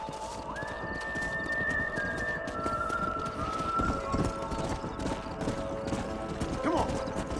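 Horses gallop in the Red Dead Redemption video game, with rapid hoofbeats, a sustained whinny and neighing near the start, under a busy outdoor game soundscape at moderate level.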